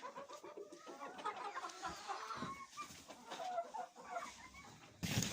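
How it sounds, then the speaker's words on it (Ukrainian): Hens peck in a coop laid with fresh straw, giving off busy, fairly faint clucking and chirping at close range with some rustling throughout. No one speaks. "Ось тут у нас ще курочки"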